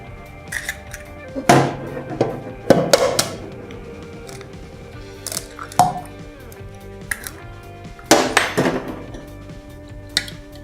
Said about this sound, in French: Je vais juste mélanger pour bien incorporer les œufs.